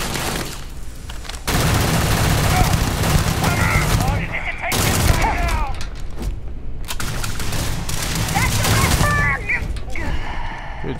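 Firefight in the video game Starfield: loud bursts of gunfire and booming shots, dense and sustained, mixed with shouted voices and clattering action.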